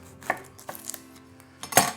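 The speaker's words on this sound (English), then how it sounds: "we're going to slice it up fairly thin, but we're going to leave it as rounds like that" A knife slices an onion into thin rounds on a board, giving a few sharp, close chopping taps spaced irregularly, the last one loudest, over a quiet background.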